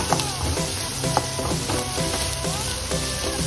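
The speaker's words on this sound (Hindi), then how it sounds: "प्याज हमें ब्राउन करनी है, ज्यादा नहीं करनी है, कम करनी है।" Chopped onions sizzling and browning in oil in a pan for an okra (bhindi) sabzi, a steady crackling fry with occasional stirring clicks, close and continuous, no talk.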